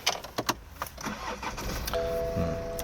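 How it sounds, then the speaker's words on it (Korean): A few light clicks and button sounds lead into a push-button start of a car with a B47 engine, which catches quickly and settles into a smooth, quiet idle close by. "시동도 상당히 깔끔하게 잘 걸리고 있습니다"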